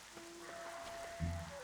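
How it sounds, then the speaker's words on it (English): Rain in the game Black Desert falls as a faint, steady patter on surfaces, a soft hiss with a few light droplet ticks and a brief low thump near the end. "Oh, rain. Good timing."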